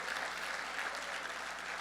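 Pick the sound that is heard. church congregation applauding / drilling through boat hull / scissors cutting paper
church congregation applauding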